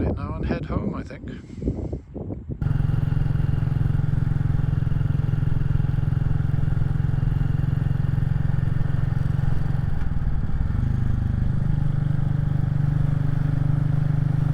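A Royal Enfield Classic 350 motorcycle rides along after brief talk, its steady low engine drone loud and continuous beneath heavy wind noise for the rest of the ride.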